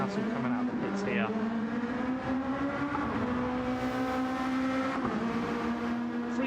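Race cars in a sim racing game at the Red Bull Ring, a Ferrari 296 and GR2 series cars, drone with steady engine tones and shifting pitch, a commentator talking over them throughout.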